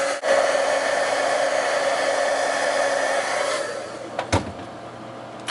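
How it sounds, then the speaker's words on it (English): Heat gun running for card-making, a steady loud blowing hum for about four seconds before it switches off, followed by a few light knocks. "Now I am going to turn the heat gun on quickly."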